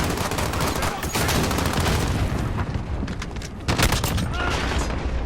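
Shotgun blasts and other gunfire in a Modern Warfare multiplayer match, with loud, dense, continuous shooting and booms that fill the whole stretch while someone talks over it.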